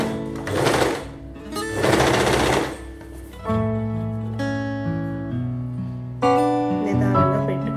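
A sewing machine runs in bursts, stitching a double-folded hem on an A-line frock, loud and close, with a steady whirring hum that shifts in pitch as the speed changes and no voices.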